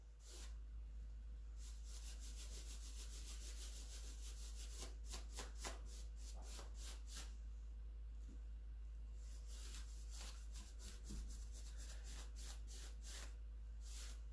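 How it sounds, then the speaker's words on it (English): Sandpaper rubs paint into fabric in repeated short scratchy strokes, quiet and close, with an irregular rhythm over a steady low hum. "Sanding this paint in, try to get it into the fabric."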